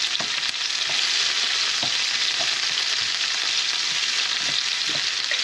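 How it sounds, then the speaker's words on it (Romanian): Vegetables fry in hot olive oil in an ordinary pan, giving a steady, close sizzle with faint crackles and occasional light stirring taps, and no voices. "Un pic de ulei de măsline până se încinge, după aia adăugăm legumele."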